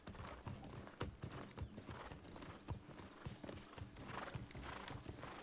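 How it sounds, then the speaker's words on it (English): Horse hooves clip-clop at an easy gait in the New World video game, a steady rhythm of close, distinct hoofbeats with light ambient noise behind. "This is my horsey."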